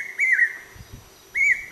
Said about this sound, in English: it is a brain fever bird.